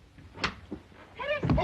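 A door being locked in a 1938 thriller film makes a couple of brief, soft clicks and knocks, followed by voices talking.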